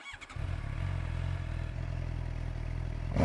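Suzuki GSX-R750 sport motorcycle fitted with a Yoshimura exhaust, idling with a steady, throbbing inline-four burble close by and ending in a short throttle blip, no talk.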